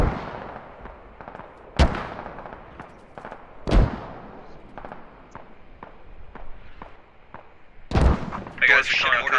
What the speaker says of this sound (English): Six rounds out. Heavy spread. I love being on the mortar, man.